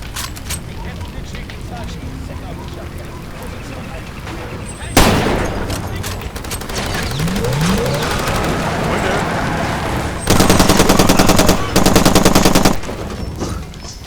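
Gunfire in the video game Far Cry 2, with a sudden loud burst followed by sustained shooting and rapid automatic rattles, while German-speaking players talk over the action.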